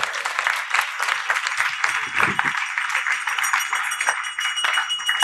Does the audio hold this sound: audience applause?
yes